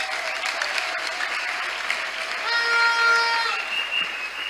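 A church congregation claps together to acclaim the Lord during a French-language sermon. The applause is steady and fairly loud for several seconds, and a brief held tone rises over it midway.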